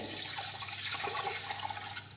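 Water pours steadily into a pot holding lentils in a home kitchen, a continuous splashing, gurgling stream heard close and alone for about two seconds.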